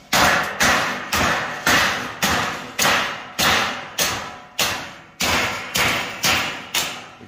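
A hammer strikes an air-conditioner A-coil repeatedly in a steady rhythm, knocking hardened putty-like buildup off, about a dozen loud, close thuds, each blow ringing briefly before the next.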